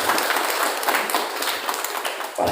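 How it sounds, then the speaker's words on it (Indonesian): Villagers at an Indonesian village head election event in Sedorejo break into applause for their leader, a continuous, fairly loud patter of many hands clapping that runs unbroken for a couple of seconds. "Tepuk tangan untuk pimpinan"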